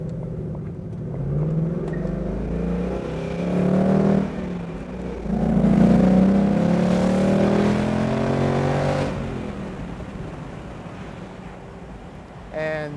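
A Ford Mustang GT Convertible engine rises in pitch as it accelerates hard, swelling in loudness, then eases off; a brief chirp sounds at the end.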